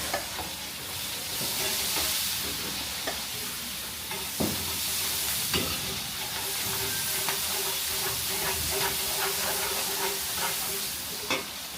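Garlic and onion sauté in a hot pan, a steady close sizzle with occasional stirring scrapes and clicks running throughout, no talking.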